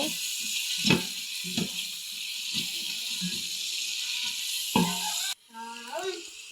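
Onions frying in oil in a pan for a beef curry, a steady broadband sizzle throughout with a few scraping stirs, close and fairly loud, no talking.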